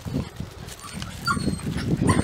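A puppy up for adoption whimpers and yips in short, uneven bursts over a busy low rumble, the cries close by and moderately loud.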